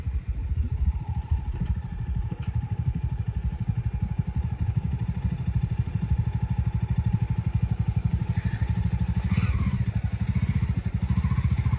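A 1978 Jawa motorcycle with an automatic clutch runs steadily close by in the Nilgiris, India, its engine thumping in an even, rapid beat for the whole stretch, with a few light clatters.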